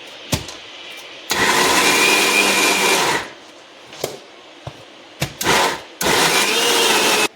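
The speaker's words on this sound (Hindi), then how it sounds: "ये दाल देखिए मिक्सर में डाल दिए। ज़्यादा नहीं पीसनी" An electric mixer grinder pulses in short bursts while coarsely grinding dal for dal palida. Loud whirring runs of one to two seconds come between brief quiet gaps and small clicks.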